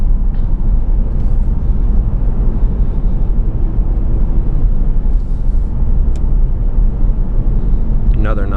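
A 2014 Ford Focus Titanium drives along a road, giving a steady low rumble of engine and road noise from inside the cabin, with brief faint clicks over it.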